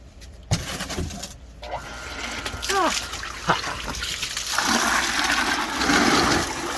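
Water gushes and splashes out of an above-ground pool sand filter during backwash, starting with clunks and trickles and building into a steady rushing flow, with someone talking over it.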